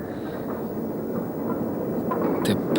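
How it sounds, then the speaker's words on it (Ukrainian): A tram passes outside a window, heard as a low, steady rumble and roll that builds slightly toward the end, with faint clinks near the close. "Цей трамвай за вікном"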